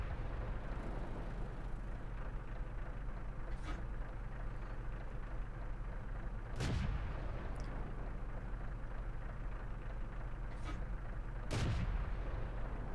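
Tank cannon shots in the video game World of Tanks from a VK 30.02 (M), a few loud booming blasts spaced several seconds apart over a constant low engine rumble.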